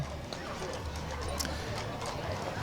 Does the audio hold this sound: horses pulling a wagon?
yes